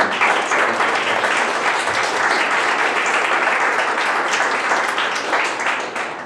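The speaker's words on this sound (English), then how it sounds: "Round of applause for Cronin" Loud, sustained applause from an audience at an entrepreneurship awards event honouring Dr. Cronin, with many hands clapping in a thick, even wash that holds steady and eases slightly at the end.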